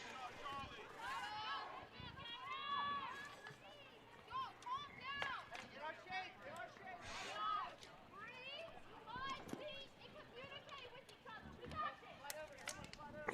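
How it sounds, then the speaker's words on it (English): Crowd noise at a girls high school soccer game between Dutchtown and St. Amant, with spectators cheering and coaches shouting instructions in a steady stream of overlapping voices, calls and whistles from the sidelines. "You can hear the crowd. You can hear the coaches."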